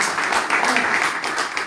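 An audience at a live mediumship and clairvoyance event claps for the arriving medium, producing a brief, dense wash of applause from many hands at a steady level.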